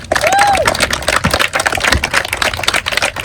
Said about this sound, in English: So give yourselves a round of applause for showing up today.